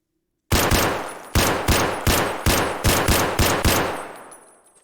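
An SKS rifle fires in Escape from Tarkov: about eight sharp, loud shots in a fairly even semi-automatic rhythm. Each crack rings briefly, and the last tail fades away into silence.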